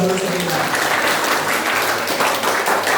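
Dense burst of clapping from a crowd in a class, steady applause filling the whole moment with a voice briefly heard at the start.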